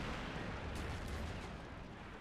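Artillery fire and distant explosions rumble on a World War I battlefield in a video game, a continuous faint, low roar with a few muffled blasts standing out.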